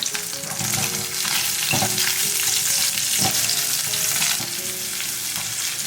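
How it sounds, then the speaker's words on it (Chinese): Pork belly and aromatics stir-fry in a clay pot, giving a loud, steady sizzle with repeated scraping stirs and spatula knocks against the pot. "五花肉煸出油了之后呢，加入料头炒香"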